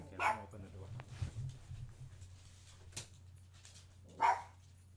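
A dog barks in the background in short bursts, a couple of sharp barks near the start and another louder one near the end, with a low steady hum underneath and a person talking quietly between them.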